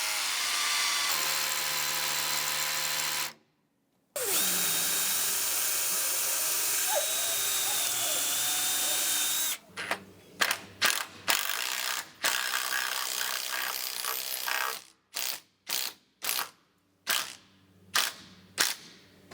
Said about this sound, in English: we're going to look at some other options for drilling out all of these concrete holes.